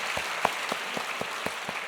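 A church congregation claps in a steady rhythmic beat, roughly four claps per second, moderately near and alone without talk, over a soft diffuse background of many hands.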